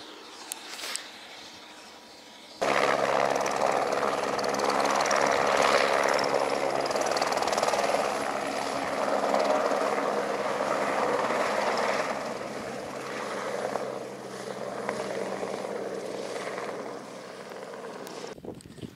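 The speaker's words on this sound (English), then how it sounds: "let's watch the helicopter fly and continue." A helicopter flies over steep Himalayan mountain terrain in Langtang, Nepal, its rotor and engine roar rising suddenly and holding loud and broad for most of the stretch before cutting off near the end.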